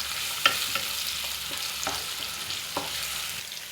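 Finely chopped onions fry toward brown for a fenugreek-leaf mutton fry, giving a continuous hiss with a handful of soft spatula scrapes and taps spaced through it, close and moderately loud.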